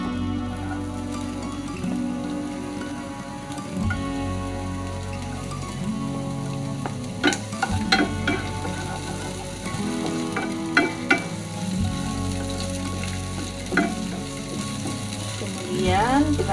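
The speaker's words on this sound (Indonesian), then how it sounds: "saya kasih 2 sendok makan minyak goreng. Kita akan tumis. Yang pertama adalah bawang bombay." Onion sautéing in two tablespoons of cooking oil in a pan, a steady close sizzle and crackle with occasional stirring clinks and scrapes, no talk.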